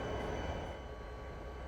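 A train hauls empty coal cars toward the desert, a steady, continuous rumble and rolling rattle held at an even level throughout, with no voices.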